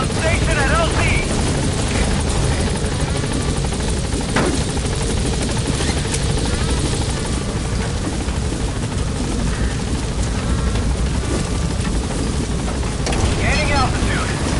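Pequod, a military transport helicopter in Metal Gear Solid 5, hovers loud and close, its dense rotor roar and wind wash filling the whole stretch while a pilot's voice speaks over it.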